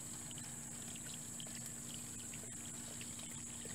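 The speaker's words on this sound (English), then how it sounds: "And we'll water a couple of the other flowers while I'm here" Water from a watering can trickling and pouring steadily onto a small flower in a garden, a soft continuous splash with a faint high hum in the background.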